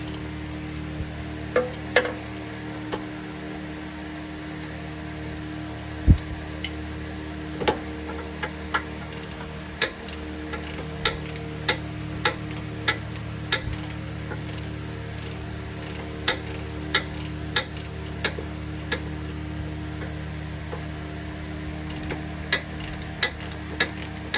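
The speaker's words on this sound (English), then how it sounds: "So I've got to get a torque wrench and set that up." A torque wrench is set and used on a truck's front suspension during a 3-inch off-road lift install. It makes a long series of soft ratcheting clicks and ticks at an irregular pace, close but faint, with no talking.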